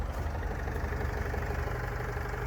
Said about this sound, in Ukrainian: робота мотора